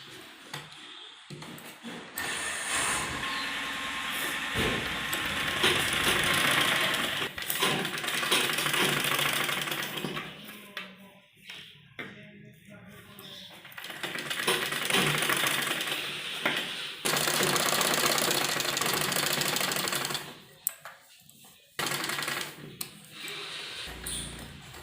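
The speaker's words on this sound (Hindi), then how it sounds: "सीधी तरफ से इस पट्टी को हम इस तरह से पलटकर सिलाई लगाएंगे" A sewing machine stitching a satin ribbon strip onto a net baby frock, humming and rattling in long continuous runs up close, stopping briefly between passes, with occasional faint handling noise.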